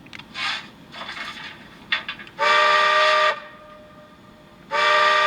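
A model steam locomotive fitted with a BLI TCS sound decoder and flat speaker gives two sustained chime whistle blasts, loud and close, after some softer chuffing and hissing effects.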